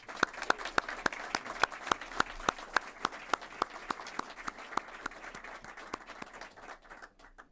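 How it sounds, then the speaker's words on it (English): A seated audience at a defense panel on the 761st Army Tank Battalion claps, with sharp, evenly spaced claps standing out near the microphone over a soft wash of applause that fades toward the end. "Let's give them a round of applause"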